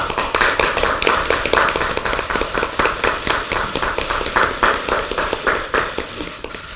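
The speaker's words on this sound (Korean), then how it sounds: "옆에 같이 박수 한번 주시죠." An audience at a political party's new-member announcement claps steadily, dense rhythmic hand claps close and continuous, easing slightly at the end.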